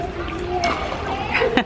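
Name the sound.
child splashing in water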